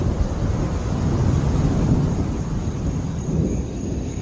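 Steady, loud rumble of thunder with a rain wash on a stormy night, a cartoon sound effect that stays dense and even throughout with no voices.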